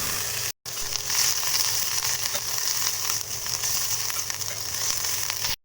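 Garlic paste fries with browned onions in hot oil for a crab curry, giving a loud, steady, close sizzle that cuts out briefly near the start and again at the end.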